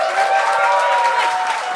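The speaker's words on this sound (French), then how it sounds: "est-ce qu'on peut commencer ça avec une tonnerre d'applaudissements" Audience applause at a live comedy show, a loud, dense, sustained wash of clapping from a crowd that holds steady throughout.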